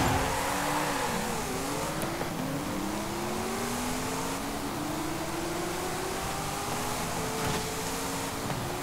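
Racing car engine from Forza Horizon 5 in a street race on normal roads, a steady loud drone with pitch rising through gear sweeps and brief dips at shifts, continuous throughout with no talk.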